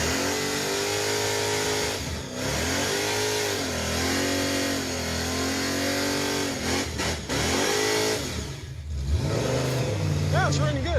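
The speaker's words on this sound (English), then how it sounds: "Think it's running good? All of a sudden, it's running pretty good." A Chevrolet Impala's engine runs and revs repeatedly, each throttle blip rising and falling in pitch over a steady idle, close and loud, with people talking over it.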